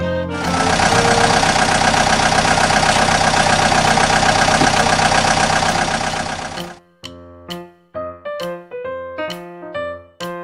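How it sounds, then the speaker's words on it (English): A broadband, steady engine roar from an excavator runs loud for about seven seconds, then cuts off into a short musical jingle. "Excavator."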